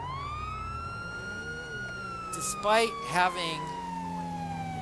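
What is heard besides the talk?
police car siren in video game GTA LSPDFR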